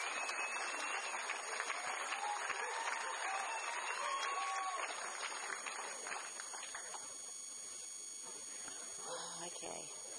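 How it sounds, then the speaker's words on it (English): Judges and spectators applauding at a dog show as a poodle finishes its turn, a dense patter of clapping under continuous announcer commentary that fades slightly toward the end. "The judges giving them a round of applause as well."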